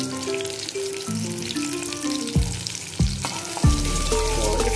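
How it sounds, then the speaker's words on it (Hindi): Fish fingers fry in hot oil, a loud, steady crackling sizzle up close, with a few clunks and scrapes of a utensil in the pan. "तो इसको फ्राई होने के लिए अभी छोड़ देंगे।"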